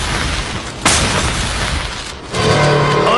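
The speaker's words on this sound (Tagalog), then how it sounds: "Magaganap na ang pagsabog in 3, 2," An explosion sound effect in an anime episode: a sharp boom bursts out amid dense noisy roar, followed by a second swelling blast, loud and close.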